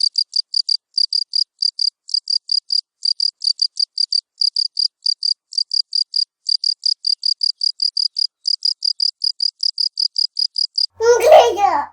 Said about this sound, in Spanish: Un grillo.